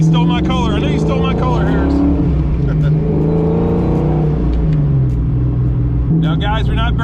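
Foxbody Mustang convertible engine revving under light throttle, a loud close rumble with rising and falling pitch, while someone talks over it throughout.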